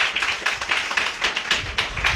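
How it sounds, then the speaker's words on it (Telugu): An audience at a Telugu church sermon claps in a quick run of sharp, close hand claps, fairly loud and uneven in rhythm, with no speech over them. "కొట్టండి ఇప్పుడు చప్పట్లో"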